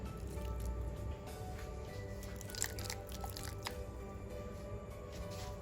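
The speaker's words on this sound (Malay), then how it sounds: "Perahkan kelapa ni dengan air suam" Grated coconut squeezed by hand with warm water, soft wet squishing and dripping close up, quiet and continuous.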